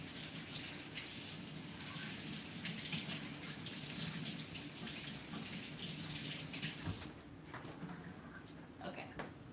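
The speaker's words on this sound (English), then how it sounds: "I'm going to go wash my hands real quick" Water running steadily from a tap for handwashing in a home kitchen, a faint continuous hiss and splash with a brief change in flow late on, heard alone at low level.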